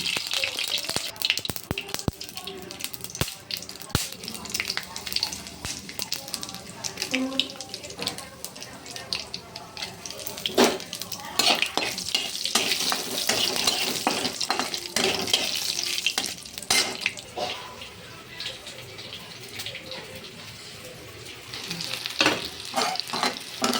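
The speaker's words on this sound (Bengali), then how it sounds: "আলুগুলো ভাজা হয়ে গেছে লাল লাল করে" Potatoes frying in mustard oil in a wok, a soft continuous sizzle with scattered clicks and scraping stirs, fairly faint, with a trickle of running water at times.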